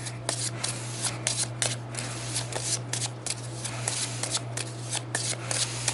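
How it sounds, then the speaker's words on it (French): A deck of Thunderstone game cards being shuffled, steady close riffling and rubbing of cards that runs continuously over a low electrical hum. "Je l'ajoute dans le paquet des 10 cartes et je mélange."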